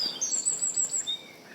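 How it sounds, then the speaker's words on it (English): Birds, blackbirds among them, sing outdoors on a dog walk. High, clear whistled phrases and chirps come in quick succession at moderate distance, with no talk. "Well, those birds are going for it."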